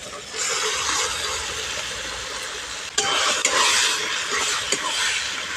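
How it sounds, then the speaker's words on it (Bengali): Cabbage paste dropped into a pan of frying tomato and onion and stirred, a steady loud sizzle with brief clinks of the spatula against the pan. "পেস্ট করে রাখা কপিটা দিয়ে দিচ্ছি"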